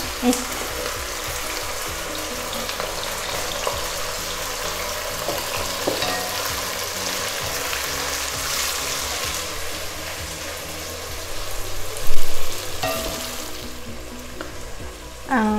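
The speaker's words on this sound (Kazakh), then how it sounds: "Мен биринчи дайыма пияз салам, себеби пияз майдын бир аз табын алат." Onions frying in hot oil in a pot for plov give a loud, steady, close sizzle that runs throughout, with some stirring and a brief louder flare near the end.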